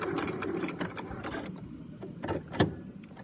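A sewing machine stitches an elastic wallet right to the fabric edge and backstitches, giving close, rapid mechanical rattling in short bursts with brief pauses between runs.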